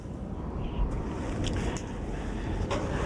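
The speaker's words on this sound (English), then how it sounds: "This wind is stronger than the last one." Strong typhoon wind roars steadily and fairly quietly at a distance, a continuous broad rush with a few faint gusting swells and no voices.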